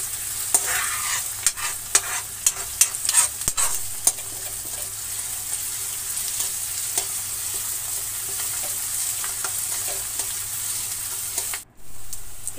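Finely chopped onions fry in a pan until brown, a steady sizzle running throughout while a spoon scrapes and stirs in bursts near the start, ending in a brief drop to near silence.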